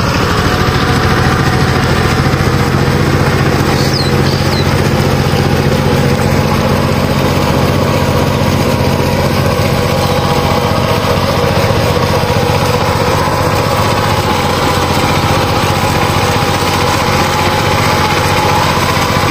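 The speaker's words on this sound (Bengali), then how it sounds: "এই আমাদের অঞ্চলে পাওয়ার টিলার আর এই হচ্ছে বিদ্যুৎ চালিত মোটর" A power tiller engine runs steadily on a farm in a rural area, producing a loud, continuous drone with no pauses or speech throughout.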